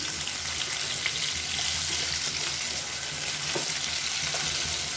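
Brinjal (eggplant) pieces frying in a pan over medium heat and being stirred, giving a steady, close, dense sizzle with faint scraping throughout and no voices.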